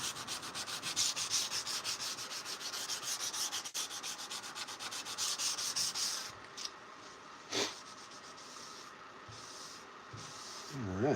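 Steady rhythmic hand sanding on a knife blade during finishing at 400 grit or finer, a close, continuous scratchy rubbing that keeps going for several seconds before easing into softer, sparser strokes.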